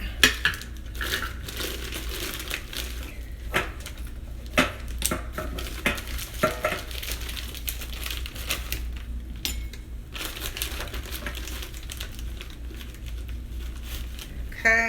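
Brown sugar packed into a tablespoon measure with repeated soft crunching presses and scrapes, interspersed with light clinks of utensils, close and quiet.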